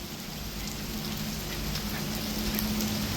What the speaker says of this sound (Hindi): बारिश भी थम नहीं रही है